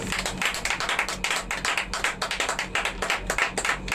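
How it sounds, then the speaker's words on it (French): A church congregation claps together at an evangelistic campaign service, a dense, steady rhythm of many hands with no talking. "Applaudissons pour le Seigneur."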